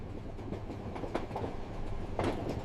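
Nilgiri toy train running on the mountain line to Ooty, a steady rolling rumble with soft rhythmic clatter of wheels on rail joints, moderately close and continuous, with no voices.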